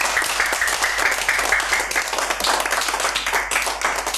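A young audience at a children's and teens' program celebrating the birth of Hazrat Zahra and Mother's Day claps steadily and close by. The dense, continuous applause holds at an even level throughout, with no speech over it.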